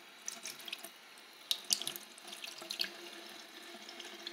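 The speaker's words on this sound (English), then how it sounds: "putting the water on." Water from a tap running into a sink to fill for a newborn baby's shower, a faint, steady splashing stream with small clinks and drips, and no talking.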